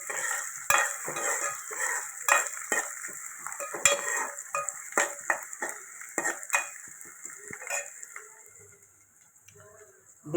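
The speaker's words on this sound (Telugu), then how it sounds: "ఉల్లిపాయ పచ్చిమిరపకాయలు వేపుకుంటున్నాను" Onions and green chillies fry in oil after tempering seeds, with a spoon clinking and scraping against the pan in irregular stirring strokes over a low sizzle, close up and fairly loud, fading near the end.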